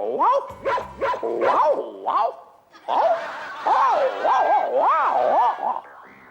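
A voice mimicking a dog's barking in a comedy act, a run of short rising woofs and yaps in uneven bursts, close and loud, with a gap between two sets of barks.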